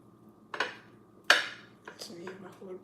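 A knife cuts red peppers on a cutting board, with two sharp chops followed by several lighter taps and small clatters, close by.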